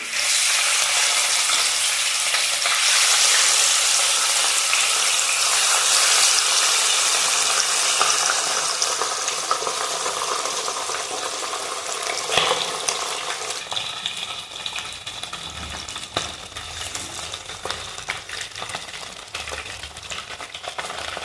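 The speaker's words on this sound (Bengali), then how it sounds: "কড়ার মধ্যে আমি তেল দিয়ে দিয়েছিলাম, তেলটাও কিন্তু গরম হয়ে এসছে। এক এক করে আমি মাছগুলো ভেজে নেব।" Pabda fish frying in hot oil in a wok gives a loud, continuous hissing sizzle that eases slightly partway through, with occasional light clinks.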